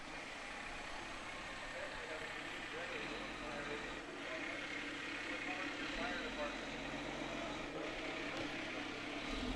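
Fire department Tower 5 ladder truck driving in a rainy school-day festival parade in Preston County, its engine rumbling steadily and close throughout, with faint voices in the background.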